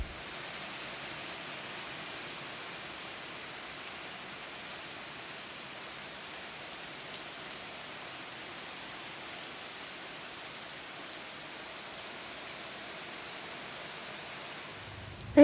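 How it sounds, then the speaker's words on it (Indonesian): Steady rain falling outside a house, a continuous soft hiss of drops on surfaces with no breaks, fairly faint and even throughout. "Ini masih hujan tuh."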